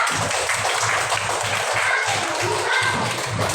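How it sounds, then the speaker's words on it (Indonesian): Students in a classroom clap together after a group placing is announced, a steady, even rhythm of shared claps repeating evenly, fairly loud and continuous throughout. "Oke, tepuk tangan"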